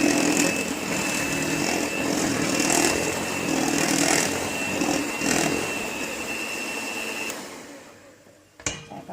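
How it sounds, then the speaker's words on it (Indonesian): An electric hand mixer at its lowest speed whirs steadily and loudly while beating chocolate steamed brownie batter, then cuts off near the end, followed by a brief clatter; no talking is heard. "kita kocok jangan dengan hanya gigi 1 ya teman-teman, terendah, kecepatan terendah"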